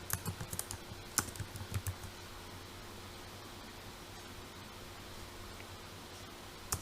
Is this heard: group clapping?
no